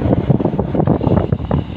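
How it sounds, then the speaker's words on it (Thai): Strong wind buffets the microphone at a dusty excavator site with a Kobelco Mark III 120 backhoe loading dump trucks, a loud continuous rumbling roar throughout with no speech. "ลมก็แรง"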